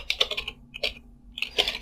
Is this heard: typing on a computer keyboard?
yes